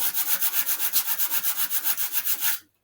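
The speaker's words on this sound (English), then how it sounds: "Quick sanding. We're going to glue to this" Quick, even back-and-forth strokes of sandpaper rasp against a 3D-printed generator rotor part, about fifteen rhythmic passes, close and clear, then stop.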